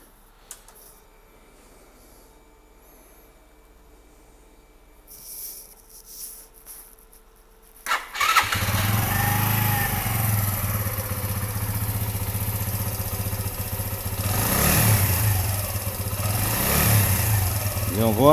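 A motorcycle engine starts and then runs steadily, close and loud, with a few throttle blips rising in pitch during a charging-circuit test; quieter handling sounds come before it.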